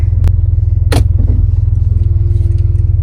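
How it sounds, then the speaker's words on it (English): A Jeep Cherokee XJ with a broken muffler drives along with a loud, deep, throbbing exhaust rumble that pulses steadily throughout, punctuated by a couple of brief clanks. "as you can probably tell from the sound, I still need to fix the muffler"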